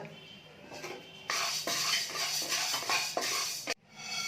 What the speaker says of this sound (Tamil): அடுத்தது கொள்ளு ஒரு இருபத்தஞ்சி கிராம் வறுத்துக்கோங்க